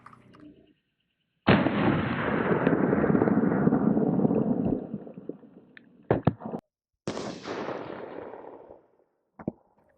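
A 9mm pistol with Minuteman ammunition fires at a Level III lightweight armor plate in a rifle-style carrier. Sharp, loud shots are followed by long ringing echo decays, then several quicker bursts and fainter pops near the end, with no talking.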